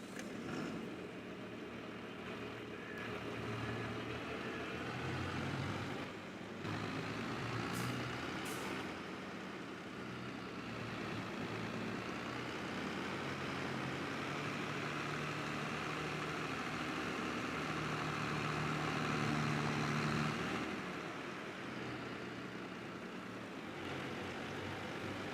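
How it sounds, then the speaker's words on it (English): A noisy tractor engine runs in Farming Simulator 22, a steady loud drone held throughout with a low rumble and a brief high hiss partway through, with no talking. "this tractor's noisy"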